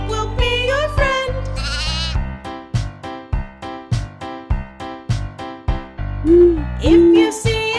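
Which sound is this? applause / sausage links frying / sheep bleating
sheep bleating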